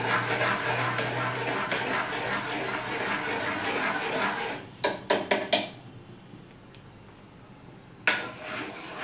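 Milk and sugar for carrot halwa get stirred in a pan, a utensil scraping and clinking against the metal in a steady run, then a few sharper knocks and a quieter stretch before another clatter.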